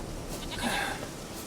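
A goat bleating in the open countryside of The Witcher 3: Wild Hunt, one wavering bleat over a steady hiss of ambient background noise, moderately close and alone.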